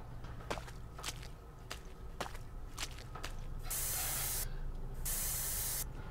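Spray paint hisses against a wall in a horror video game: steady footsteps tap along at first, then two long, loud hissing blasts of the can follow one after the other, with no talk.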